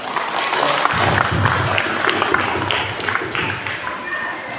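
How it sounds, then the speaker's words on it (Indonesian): An audience applauds after an Indonesian parenting talk, steady crowd clapping that is moderately loud and continuous, with a murmur of voices mixed in. "Kita berikan sekali lagi aplaus meriah untuk Ayah Iwan."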